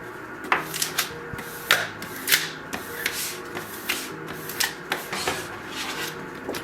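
A squeegee tool rubs across heat transfer vinyl on a hard surface, making close, irregular scraping swipes with sharp bursts roughly every half second and no talking.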